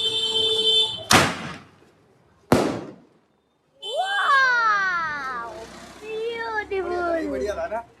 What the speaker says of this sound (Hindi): तो गाइस अभी चलते हैं, एक स्काई शॉट अभी फोड़ देते हैं